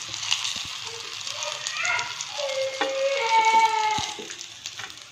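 Stuffed bitter gourd fries in hot oil with a soft, steady sizzle and a few light stirring clicks, while a voice talks over it throughout.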